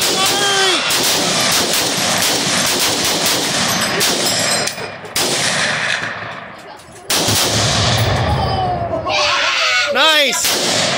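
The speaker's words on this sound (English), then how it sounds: "Fire! Squeeze the trigger!" Rapid rifle gunfire at an outdoor shooting session with Tannerite-packed pumpkins as targets, a dense run of loud, close shots with a few brief gaps, ending in sharp ringing reports.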